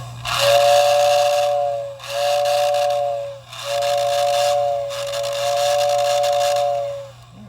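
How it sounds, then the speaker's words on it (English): A Lionel 1655 Scout toy locomotive's whistle assembly is bench-tested, giving four steady, loud whistle blasts, each lasting about one to two seconds, over a constant low motor hum. "I'm going to start by testing the whistle assembly."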